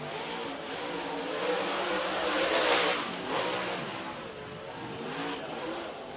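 A dirt track race car at Lake Cumberland Speedway in Burnside, Kentucky, roars steadily around the track, swelling louder as it passes and then easing off, a continuous loud engine drone with no voices.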